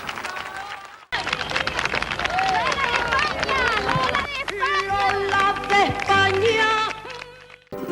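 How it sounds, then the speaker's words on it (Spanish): Crowd of mourners at Lola Flores' funeral in Madrid, thousands gathered outside, shouting and cheering in a dense, continuous roar with scattered whistles and raised voices, loud and close throughout. "entre gritos y aplausos, han ofrecido a la faraona un último homenaje popular"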